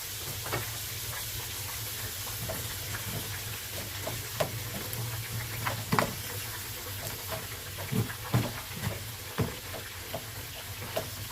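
Minced meat frying in a pan with chopped onion and peppers, giving a soft steady sizzle and hiss with occasional faint pops and stirring scrapes, quiet and continuous with no talking.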